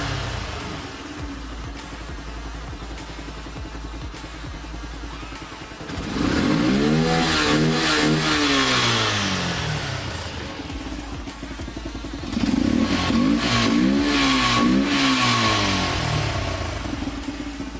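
A Yamaha FZ16 motorcycle fitted with a modified air filter idles steadily, then is revved twice in loud rising and falling bursts, first around six seconds in and again near twelve, with a deep, bassy engine note.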